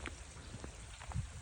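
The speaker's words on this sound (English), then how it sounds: "Yeah, it's raining." Light rain falls during a small thunderstorm, a faint steady patter with scattered individual drops tapping nearby.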